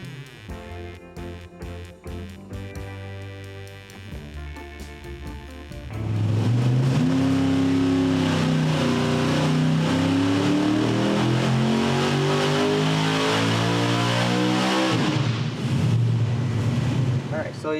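An engine fitted with a Pro Systems carburetor and a 3D-printed intake manifold runs on a dyno, idling roughly at first, then breaking into a loud, sustained full-throttle roar that climbs in pitch for about nine seconds before backing off.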